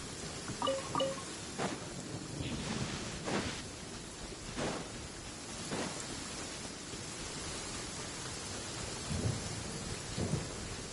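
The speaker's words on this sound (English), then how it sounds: "This heavy rain must be quite an inconvenience for you." Heavy rain pours steadily in the Genshin Impact video game while several rolls of thunder rumble and crack at intervals over the constant hiss.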